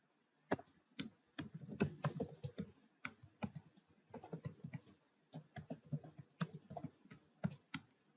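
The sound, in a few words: typing on a computer keyboard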